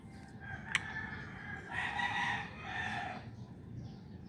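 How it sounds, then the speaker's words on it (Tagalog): A rooster crows once in a drawn-out call at moderate distance, with faint clucking from chickens and a steady outdoor background hum around it. "May mga ingay din ng mga ibon, ng mga manok."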